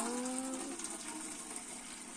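Two-stroke oil mix pours through a funnel into a 2-litre can as a faint, continuous liquid trickle and gurgle with a short rising tone at the start.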